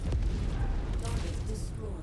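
Mech weapons fire in MechWarrior 5, a dense, steady roar of low booming gunfire running through the whole stretch with a few sharper bursts, set under game radio voices.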